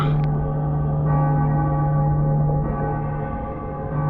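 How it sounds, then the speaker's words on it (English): Cracked church bells in the video game Cyberpunk 2077 give a sustained, eerie, atonal clang that hums loud and steady, with no speech over it. "Bells were cracked too. Gave off this eerie, atonal clang."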